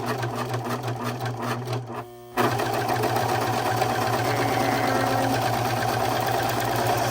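A serger sewing machine stitching through scrap fabric keeps up a fast, steady mechanical whir, pauses briefly, then resumes a constant running drone.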